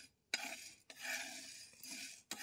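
Sago pearls dry roasting in a pan are stirred with a utensil, giving bursts of close, loud scraping and rattling separated by short silent pauses.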